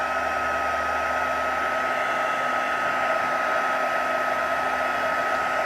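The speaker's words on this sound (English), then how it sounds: "so heating with the heat tool one at a time" A heat tool warms embossing powder on a stamped autumn card, giving a steady, loud, even blowing whoosh like a hair dryer that runs unbroken throughout.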